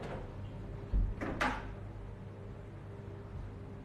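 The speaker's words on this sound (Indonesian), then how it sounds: "Tutup pintu dulu." Indoor door closing with a couple of short, fairly loud knocks and bumps over a quiet room hum with a faint engine drone in the background.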